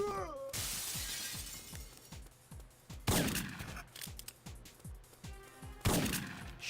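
Shotgun blasts from the PS1 game Syphon Filter: several loud booming shots with sharp attacks, one near the start, another around midway and a third near the end, amid smaller rapid impacts and clatter.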